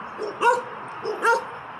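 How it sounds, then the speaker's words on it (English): A dog gives two sharp barks about a second apart, close and loud over a quiet background. "Goddamn dog."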